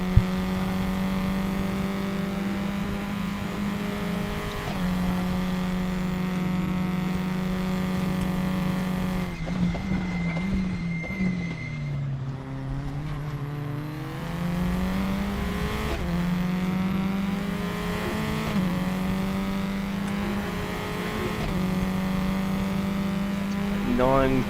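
Race car engines in the RaceRoom racing video game drone continuously at high revs, with pitch shifting through gear changes and braking, plus occasional tire squeal, loud and steady throughout.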